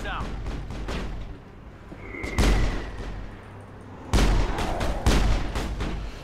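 Single-shot gunfire in a Mass Effect firefight, with several loud sharp reports in irregular succession over background rumble and a voice speaking between shots.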